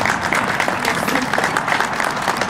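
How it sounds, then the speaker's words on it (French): A French-speaking audience at a Journée nationale des patriotes family event claps steadily, a dense, even wash of applause filling the whole stretch at a moderate level with faint murmurs underneath. "je pense qu'on peut applaudir"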